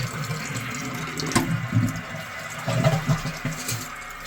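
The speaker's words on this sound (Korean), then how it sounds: "여기서 이제 물 내리고" A newly installed toilet is flushed, releasing a close rush of water with gurgling surges and swirling that rise and fall over a few seconds.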